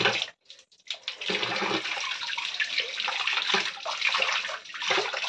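Water splashing and pouring during a child's bath, a close, continuous rush of running and sloshing water with a few brief pauses.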